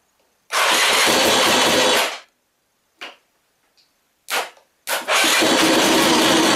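A Polaris Scrambler ATV engine fires up for the first time: a loud two-second roar cuts off, then a few short sputters and pops, before it catches again and runs loudly to the end.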